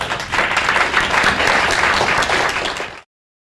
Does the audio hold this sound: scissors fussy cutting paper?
no